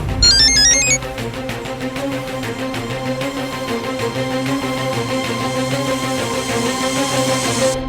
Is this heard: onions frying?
no